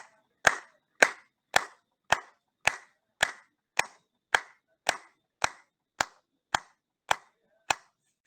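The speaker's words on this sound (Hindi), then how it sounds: "और सभी जनों के लिए ताली," Group clapping during an online yoga session: about fifteen sharp, evenly spaced claps in a steady rhythm, loud and close, with no talking.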